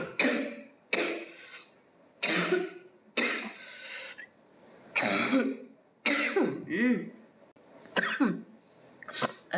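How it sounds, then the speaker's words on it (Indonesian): Someone with a cough and cold coughs and clears their throat over and over, about eight close, harsh bursts spaced a second or so apart, with no talking. "Kapan ini batuk pilek sembuh?"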